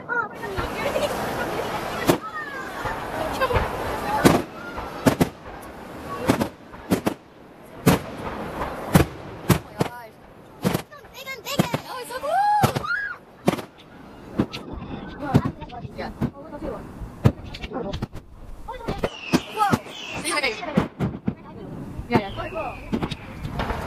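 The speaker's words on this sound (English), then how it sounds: "I'll videotape some of the vlog, I mean the fireworks" Fireworks burst and crackle at night, sharp booms and pops landing irregularly across the clip, some loud and near, with people talking throughout between the blasts.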